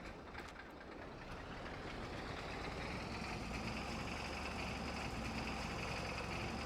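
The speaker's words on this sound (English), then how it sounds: "it has a little bit of a lope when it's idling" A combine harvester engine in Farming Simulator 22 idles with a steady low rumble and a slight uneven lope, heard alone and fairly faint.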